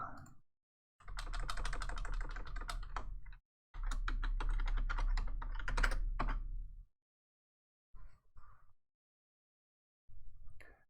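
Password typed on a computer keyboard in two long bursts of rapid, close key clatter, followed by a few brief isolated keystrokes after pauses.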